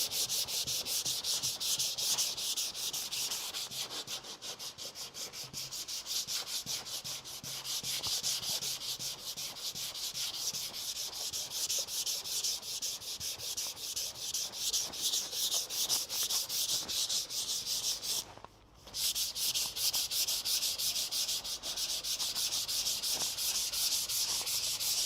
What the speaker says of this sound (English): I'm going to go in there and sand it a little bit, just to see if that helps us get any of our lines out.